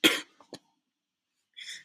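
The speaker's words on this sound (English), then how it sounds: "I'm about to cough again, hold on." A single harsh cough, followed by a couple of small throat sounds and a brief exhale or rustle after a pause.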